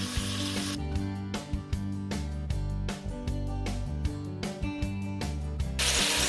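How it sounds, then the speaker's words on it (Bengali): Chicken pieces added to a pan of reddened onions, ginger and garlic, frying with a strong sizzle broken by repeated clattering and stirring knocks in an irregular rhythm, loud and close. "এখন মাংসগুলোকে ছেড়ে দেবো আমি।"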